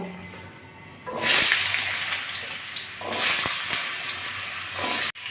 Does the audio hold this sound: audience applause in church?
no